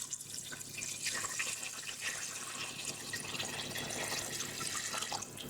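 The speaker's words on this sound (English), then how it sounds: "You need to sort of cover the bones with the water." Water poured into a pot to cover bones for making gravy, a steady continuous splashing and trickling stream lasting several seconds with no talk over it.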